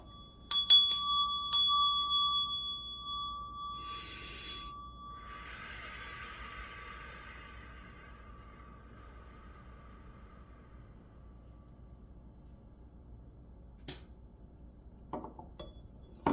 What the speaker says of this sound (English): I'm just going to ring the meditation bell